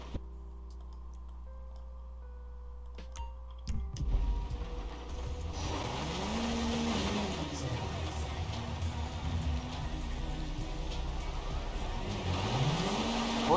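A car in GTA 5: after a few quiet seconds of ticking and small mechanical sounds, the engine starts and drives off, revving up and down through gear changes, steady and fairly close.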